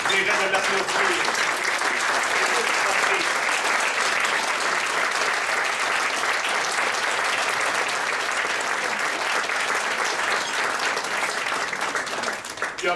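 A hall audience at an education association gathering applauds warmly and continuously, a thick wash of many hands clapping for several seconds, easing slightly at the end, with a voice faintly underneath.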